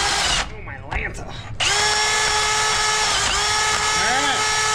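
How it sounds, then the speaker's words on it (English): Power drill boring out the steering knuckles on a Jeep Cherokee XJ, a loud high whine with a brief pause in the cut before running steady again; someone talks over it. "Drill out those knuckles is super easy. They cut like butter."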